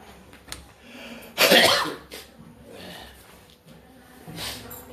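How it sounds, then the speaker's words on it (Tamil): A single harsh cough bursts out mid-clip, loud and close, with a fainter throat-clearing sound near the end against a quiet room background. "சாயங்காலம்னா கூட வந்ததே இருமல் வரும்."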